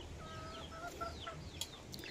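Backyard chickens fed by hand, clucking softly with faint, scattered calls over low background noise.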